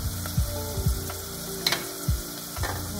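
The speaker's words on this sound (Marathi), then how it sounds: "आता कांदा छान गुलाबी रंगावर परतून घेतलाय, त्याच्यात आपण आलं लसणाची पेस्ट टाकूया।" Ginger-garlic paste frying with browned onion in a pan for a peas and potato curry, an up-close sizzle with repeated low spoon scrapes and knocks against the pan.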